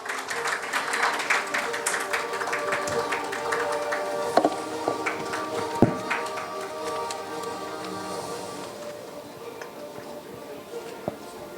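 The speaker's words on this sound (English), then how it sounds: "Keep applauding, don't stop" An audience at a healthcare awards conference applauds steadily, the clapping gradually thinning out, with a few sharper taps and knocks standing out from the crowd sound.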